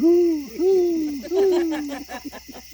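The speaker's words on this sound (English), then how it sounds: "There's that owl again." An owl hoots at night in West Virginia, giving three long, clear, wavering calls in a row followed by a few shorter broken notes, loud and fairly near, with no talk over it.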